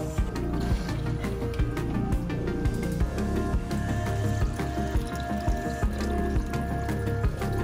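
Aquarium filter running in a freshly filled reptile tank, giving a steady close trickle and splash of water with bubbling drips throughout and no talk.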